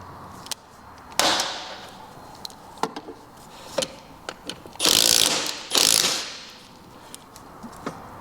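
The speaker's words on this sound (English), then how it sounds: "5 bolts, usually 13mm socket, to get the wheel out of the way" A socket wrench ratchets in short clicking bursts while 13mm bolts come off the rear wheel of a Vespa P200e scooter, close and isolated, with a couple of louder sustained mechanical stretches in between.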